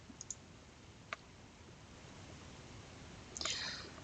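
A few faint, sharp computer mouse clicks scattered across a quiet background, with a slightly louder double click near the end.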